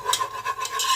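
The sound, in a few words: roux of gluten-free flour cooking and being stirred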